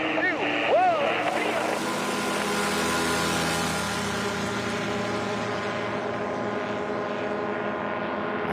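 A stock Rotax engine on a Rans S7 light aircraft drones steadily during a STOL drag race, a continuous buzzing roar with shifting harmonics, heard alongside people talking.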